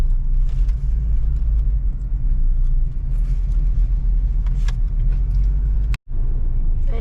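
Steady road traffic rumbles at four in the afternoon in Angeles, Clark, with cars passing continuously in a loud low drone that drops out briefly near the end.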